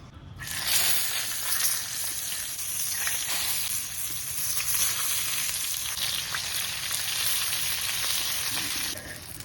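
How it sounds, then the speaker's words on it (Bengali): Eggplant pieces frying in hot oil send up a loud, steady sizzle with scattered pops and crackles, heard close and uninterrupted for several seconds before easing slightly at the end, with no voices. "এখানে আমি বেগুনগুলি ভেজে নেব।"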